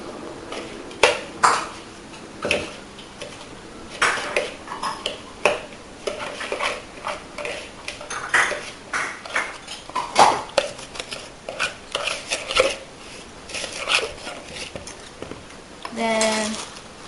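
Food for BBQ ribs and mashed potatoes is mixed together in a bowl, heard as irregular clinks, knocks and scrapes of utensils against dishes, with people talking quietly in the background.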